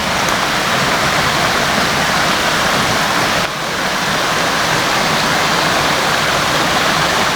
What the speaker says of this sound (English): we can be listening to the sound of the creek running by